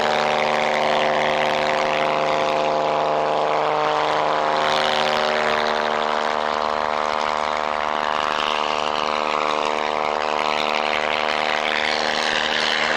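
Propeller aeroplane flying aerobatic slow rolls at the North Weald airshow, a steady droning engine with strong harmonic tones held loud and continuous throughout, no talk.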